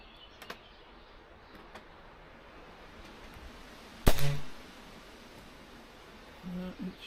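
A single sharp rifle shot cracks out at an outdoor range while zeroing the rifle, loud and close against quiet wind noise, followed by faint thuds and a brief rustle.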